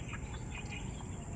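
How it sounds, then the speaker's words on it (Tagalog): Birds call from trees in a rural Philippine area, giving faint, brief chirps that sit over a steady hum of insects and low background rumble. "mga huni ng ibon, makikita nyo"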